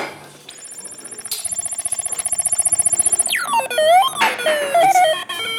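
An unmodified toy plays its stock electronic sounds: a bright, steady ringing tone with a rapid pulsing beat, then sweeping, falling and rising synthetic chirps and warbles, loud and close with no talking.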